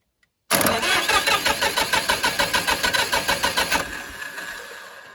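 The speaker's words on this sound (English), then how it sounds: "engine's cranking over." An Oliver OC-46 track loader engine with seized injectors, unused for ten years, cranks over with a steady rapid chugging rhythm for a few seconds, loud and close, then the cranking stops and a lower rumble trails off.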